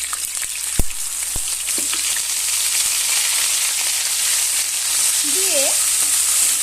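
Onion paste fries in hot oil with cumin, dried chilli and bay leaf, giving a loud, continuous sizzling hiss with a couple of sharp clicks early on and a brief spoken word.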